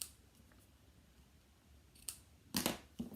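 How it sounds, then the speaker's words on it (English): Scissors trimming ribbon ends on a handmade holiday card: a few quick, crisp snips close by near the end, quiet otherwise, with no talking. "and trim up the ends of our ribbon."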